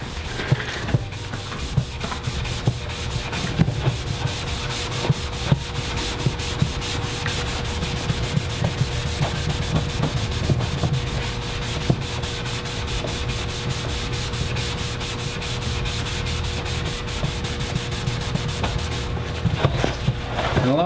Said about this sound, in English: now we're gonna try to buff these tags on this smooth plastic surface, aka a garbage can